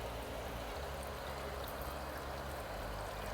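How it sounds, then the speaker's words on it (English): Water steadily leaking out of a deflating inflatable hot tub, a continuous faint hissing trickle with no breaks and no voices. "you can already hear some of the water leaking out."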